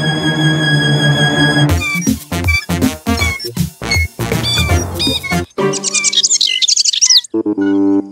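Cartoon baby bird chirping in a children's animated football episode, bright rapid tweets in quick bursts over cheerful music, loud and close, with a higher twittering run near the end.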